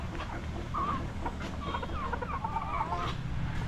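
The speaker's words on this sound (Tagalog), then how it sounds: "Dilan, pakain na ng mga lagang manok padami ng padami na yung mga manok" A flock of chickens clucks and murmurs steadily nearby, overlapping calls with a few higher squawks over a low rumbling background.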